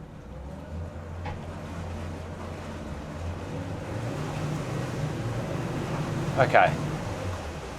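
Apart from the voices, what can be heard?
boat engines idling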